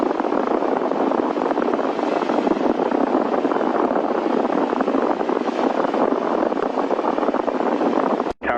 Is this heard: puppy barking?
no